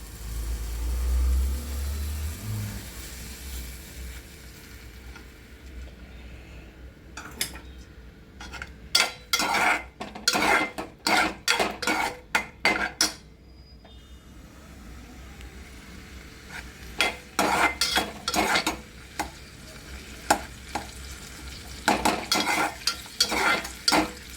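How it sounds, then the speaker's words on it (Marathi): Onion frying in oil in a pan for a spinach and potato curry, with bursts of sharp scraping and clattering from a spoon against the pan over a low, steady sizzle, busiest in the middle and toward the end. "पहिला आपण पॅन ठेवला त्यामध्ये कांदा टाकला आता तेल टाकूया"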